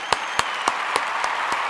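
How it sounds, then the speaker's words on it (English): Six evenly spaced sharp claps over a steady, bright crowd-like wash, like a sound effect of a round of applause, each clap distinct and fairly close. "Let's get another round of applause just for that,"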